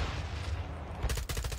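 Gunfire in the Call of Duty video game: a rumbling blast gives way to a rapid burst of sharp shots near the end, loud and close.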